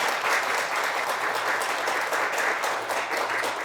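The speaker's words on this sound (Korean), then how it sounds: "이 대목에서는 정말 큰 박수를 한번 보내주십시오." Dense, sustained applause fills a large hall at a Korean national energy event as a speaker is introduced, a steady wash of many hands clapping with no voices on top.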